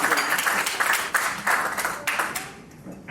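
Audience applause for guest Pankhuri Bansal at a live Web3 for Social Good event, a short burst of dense clapping that swells and fades over about three seconds.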